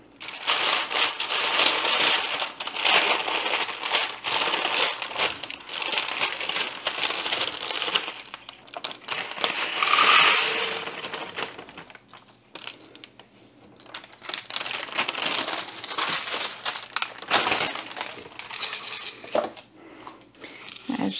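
Parchment paper crinkles and rustles as dried chunks of garlic are handled on it for homemade garlic powder, with repeated crackling bursts and brief pauses over about twenty seconds.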